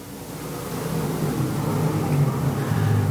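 Modified race cars roar as they accelerate off turn four at Boyd's Speedway, a loud, steady engine drone that builds and holds without a break.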